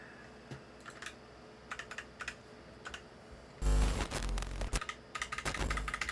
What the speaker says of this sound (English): You can see I'm typing it in now